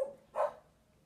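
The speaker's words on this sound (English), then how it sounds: "Somebody's walking past with their little dog." A small dog gives a single short bark, faint and somewhat distant, followed by near silence.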